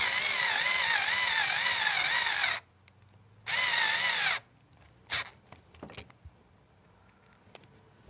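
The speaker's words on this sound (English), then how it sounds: "this is a power screwdriver. It does not have a lot of torque to it." Low-torque power screwdriver driving outdoor-coated screws into a strawberry bed cage, two whirring bursts of a couple of seconds each, followed by quieter knocks and handling sounds.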